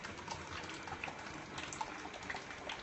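Liquid ceramic glaze for a cone 6 firing pours through a sieve in a steady, continuous trickling wash, fairly soft and unbroken, with no talk over it.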